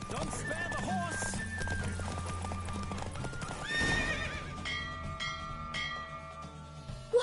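In The Witcher 3, a racing horse's hooves clatter rapidly in the first half, then a loud whinny rings out and the galloping fades as bell-like tones and voices take over.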